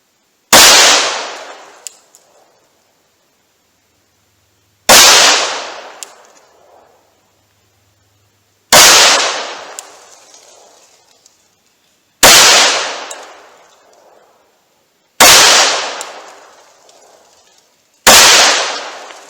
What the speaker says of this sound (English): 45 ACP, 230 grain HTP rounds. I'm just going to fire slow, try to hit center mass